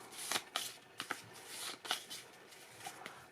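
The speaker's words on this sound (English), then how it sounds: "I'm going to pull out 2 cards" Playing cards are drawn and flicked from a deck, a series of quick, crisp papery snaps and riffles, close and quiet with no voices.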